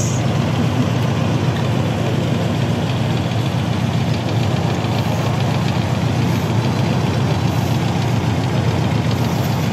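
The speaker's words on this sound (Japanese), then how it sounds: "でもエンジンすごい調子いい音をしてますね。" A Honda CB400Four motorcycle engine, recently overhauled, idles close by with a steady, even mechanical patter and low hum that continues unchanged throughout, with no talk over it.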